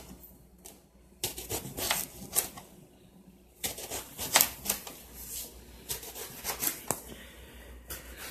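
A knife slices through eggplant on a kitchen cutting board in quiet, irregular crisp knocks and scrapes, with short pauses between groups of cuts.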